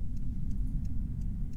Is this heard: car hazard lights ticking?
yes